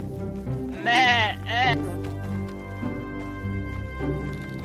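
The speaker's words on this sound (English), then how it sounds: "Bro, that's a goat, not a deer, dude." A goat in the video game Oh Deer gives two loud bleats in quick succession, each wavering and drawn out, over game music, then fainter sounds follow.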